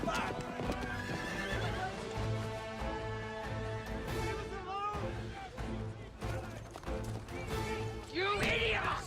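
Horses neighing and hooves clattering at a fast gallop, with music and shouted voices layered over the commotion.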